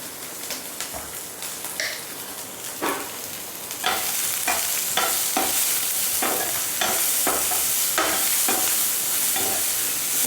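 Capsicum and tomato with salt sautéed in a pan for white sauce pasta, with a steady close sizzle and frying hiss, punctuated by scraping stirs of a spoon that grow louder and busier partway through.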